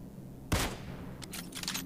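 A gunshot rings out in the mobile battle royale game PUBG New State: one sudden loud crack followed by a brief rattling tail and fainter sharp reports, over steady game background noise.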